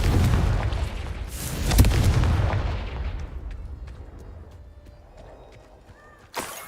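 A fiery Confringo blast spell from the Hogwarts Legacy video game erupts in a loud, rumbling boom that peaks early, then decays into a long fading tail, with a sharp crack near the end.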